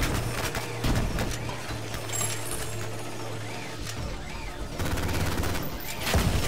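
Enemy gunfire in the shooter video game Ion Maiden, a dense stream of rapid shots with a continuous low hum beneath, staying loud throughout and swelling again near the end.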